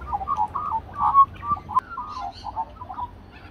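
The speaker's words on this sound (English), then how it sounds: "A quick break to feed the animals. First up, the magpies." Magpies calling as they gather for food, a run of short, harsh chattering and chirping notes repeated at close range over a faint background hum.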